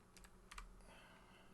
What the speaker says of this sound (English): Let's just type in 80s game